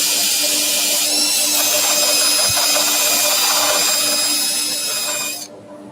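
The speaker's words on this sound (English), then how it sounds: "I'm going to carry on in my power sanding." Power sander working on a wooden platter on a lathe, a loud steady high-pitched whir running continuously, then cutting off abruptly near the end, leaving a quieter hum.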